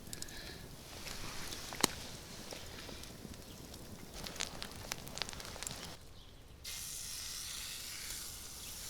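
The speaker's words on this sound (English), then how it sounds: "In a hot cast iron pan, we add some butter, followed by the steaks." Steaks sizzle in butter in a hot cast iron pan, a steady close hiss with scattered pops and crackles that drops off briefly before a louder, even sizzle resumes.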